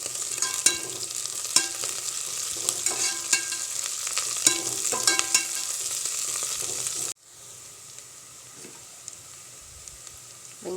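Onion, green chili, mint and coriander sauté in a pan, giving a steady close sizzle broken by repeated scraping stirs, then dropping suddenly to a softer, quieter frying hiss for the last few seconds.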